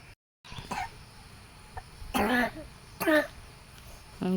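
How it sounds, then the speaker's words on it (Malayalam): A few short coughs and throat-clearing bursts come at intervals, close by, with faint background murmur between them and a brief silent gap at the start. "എന്തൊരു ചുമച്ചോ"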